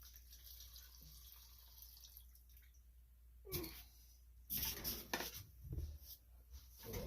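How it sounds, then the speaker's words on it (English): Gasoline drains from the fuel line of a Honda GT 31 four-stroke mower, trickling and splashing in uneven spurts close by, with some clattering handling noises in between. "So we're going to go ahead and drain that enough where it's below the lines of the fuel"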